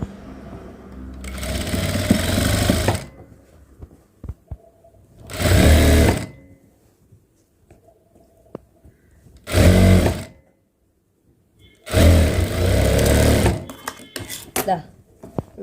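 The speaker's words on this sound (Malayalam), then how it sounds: "തയ്ക്കുമ്പോൾ ഒട്ടും തുണി വലിച്ചു പിടിക്കല്ലേ." An electric sewing machine stitches fabric in four loud bursts of a few seconds each, separated by quiet pauses with soft handling noises and no speech.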